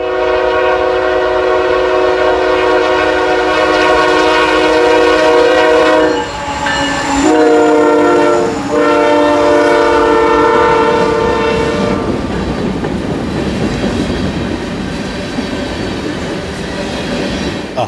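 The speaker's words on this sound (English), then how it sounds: "SD75I lead M337 slowly upgrade." A CN freight train led by an SD75I locomotive climbs slowly upgrade in Rockford, Illinois, sounding long, loud horn blasts with brief breaks over a heavy rumble, then rolls on with a growing rattle and clatter of cars.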